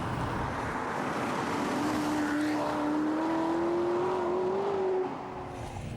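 A 2004 Maserati Quattroporte with a V8 engine drives on the road, a continuous close engine drone with a whining tone that climbs steadily in pitch before easing off near the end.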